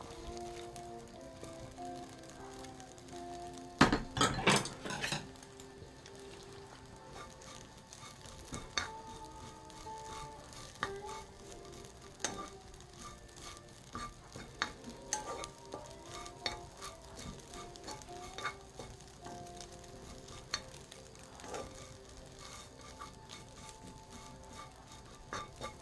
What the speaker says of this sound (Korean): 살짝 볶을게요.